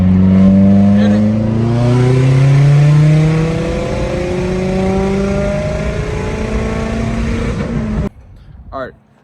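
Subaru STI with a catless downpipe and loud, raspy exhaust revs hard in third gear, climbing harmonics as the engine sweeps up to about 3,000 rpm, loud and close, then cuts off abruptly near the end.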